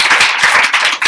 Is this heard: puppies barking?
no